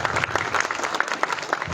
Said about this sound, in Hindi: मैं चाहूंगा कि एक बार जोरदार तालियां होनी चाहिए।